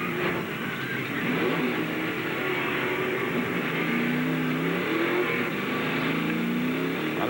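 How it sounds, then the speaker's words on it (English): A stock race car at a 2000 NBS SunCom 200 NASCAR event roars at full throttle, a steady loud engine drone with rising pitch sweeps near the middle, set against crowd and track noise. "You heard him nail the gas"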